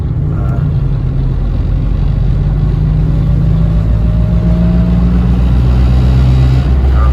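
An LS V8 swapped into a 2004 BMW 320i pulls hard under acceleration while passing, a loud steady engine drone with rising pitch heard from inside the cabin.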